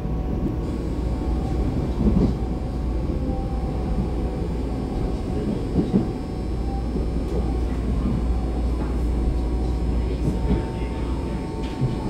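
A ten-car silver-green EMU900 commuter train rumbles steadily as it slows and stops at a station, with a deep continuous low drone and occasional soft clunks throughout.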